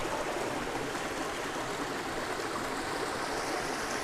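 River water on a farm flows in a steady, loud rushing wash, constant and broadband from start to finish, with no talk over it.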